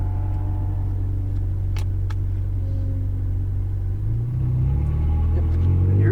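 A Ferrari 458 Italia pulls onto the race track at Exotics Racing in Las Vegas. A steady, close, low engine rumble holds, then swells louder near the end as the car accelerates.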